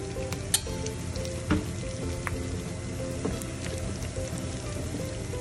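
Ground cumin and spices fry in a pan for a shrimp dopiaza with a dense, continuous sizzle up close, broken by a few sharp taps and scrapes of a spatula.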